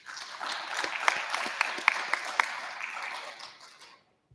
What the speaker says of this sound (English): So a round of applause for all the volunteers.